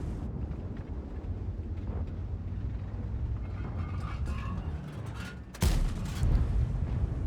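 A single heavy tank cannon shot from a 50TP Prototype in World of Tanks lands as a sudden loud boom near the end, cutting through a steady low engine rumble and followed by a lingering deep roar.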